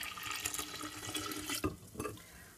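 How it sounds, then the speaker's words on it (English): Brewed tea for kombucha poured into a gallon jug, a steady close splashing stream of liquid with a few brief gurgling surges toward the end, no voices. "And then I will pour this liquid into my gallon"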